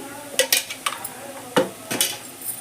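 A spoon scrapes and clinks against a pan while fenugreek and coriander chutney paste with fried onion and tomato is mixed, a handful of sharp metallic taps amid faint background noise.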